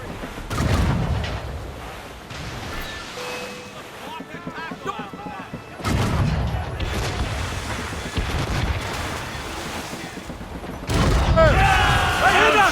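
Naval cannon fire in Assassin's Creed Rogue: heavy booms land in three separate volleys amid ship and sea ambience, with voices shouting orders over the battle.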